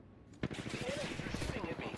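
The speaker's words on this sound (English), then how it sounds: "Shooting at me." Rapid bursts of automatic gunfire in the battle royale game Apex Legends, a quick stream of close shots rattling over a brief sharp report, under a faint voice.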